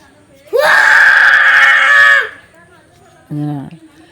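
A child lets out a long, strained, loud roar, imitating a lion, followed by a brief lower vocal sound after a pause.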